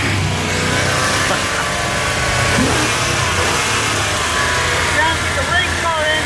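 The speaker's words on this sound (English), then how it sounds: "Sounds like a race car engine." A car engine, just cleaned with foam engine cleaner, revs hard and loud like a race car, a sustained throaty roar with rising pitch sweeps, close by.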